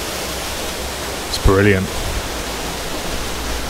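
Steady rushing noise of a waterfall near the Clydach Nant Dyar viaduct fills the background throughout, with a brief spoken phrase partway through.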